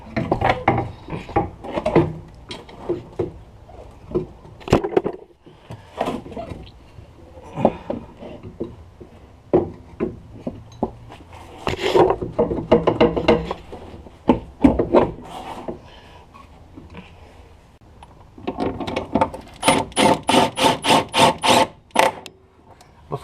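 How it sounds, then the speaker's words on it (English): A rear quick strut being slid into place past the fender on a Pontiac Grand Am: a long run of scraping, rubbing and knocking metal-on-metal contacts, close and irregular, ending in a quick series of rapid clicks. "to get the strut in place, to slide it through this way, downward, past the fender."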